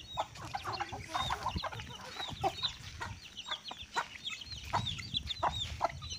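Several chickens cluck in a small breeding flock, their short, choppy calls overlapping in a busy, close chorus with scattered louder squawks throughout.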